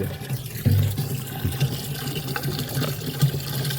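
A hand-operated water pump draws water in the field for irrigation, giving a close, steady watery gush with low rhythmic surges and splashing throughout.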